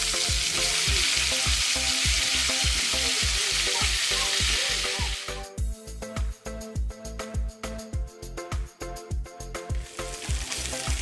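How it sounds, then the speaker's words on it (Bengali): Raw jackfruit pieces fry in hot oil previously used for frying prawns, a loud dense sizzle that eases midway into quieter bubbling with rhythmic stirring clatter. No voices. "আমি এবার ওই চিংড়ি মাছ ভাজার তেলে এঁচোড়গুলি দিয়ে দেবো"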